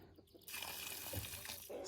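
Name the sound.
pouring nutrient solution onto pepper seedlings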